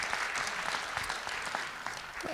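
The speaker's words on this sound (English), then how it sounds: "round of applause for Summer" Applause from the audience at a public safety forum, a dense, steady burst of many hands clapping at even loudness throughout.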